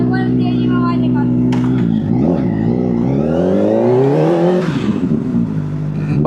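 A 2025 Kawasaki ZX-4RR fitted with a Scorpion exhaust sits at a steady idle, then climbs through one loud, rising rev before dropping back, with voices talking over the start.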